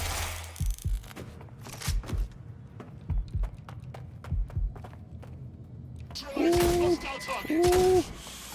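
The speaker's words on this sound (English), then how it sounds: "Shooting at us." Gunfire crackles in the Watch Dogs Legion video game, with a string of sharp single shots spaced across several seconds and a few footstep-like thumps. Voices speak over heavier, sustained blasts toward the end.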